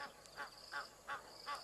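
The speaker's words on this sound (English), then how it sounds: "More Egyptian geese shouting the odds." Egyptian geese honk in a repeated series of four or five nasal calls at an African wildlife site, moderately distant and fairly faint over a quiet outdoor background.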